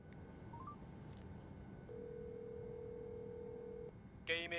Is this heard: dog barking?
no